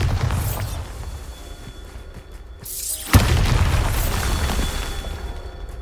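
The Bombarda spell explosion in Hogwarts Legacy sounds as a sharp, loud boom with a rushing whoosh. It stands out against a busy, rumbling game background.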